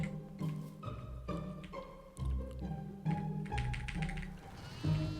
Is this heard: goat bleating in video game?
yes